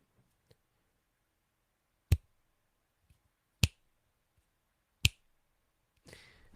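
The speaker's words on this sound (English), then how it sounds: "Now those clicks, snaps, finger snaps, should have been in sync" Three sharp finger snaps spaced about a second and a half apart, clean and isolated against near silence, followed by a brief burst of rustling noise.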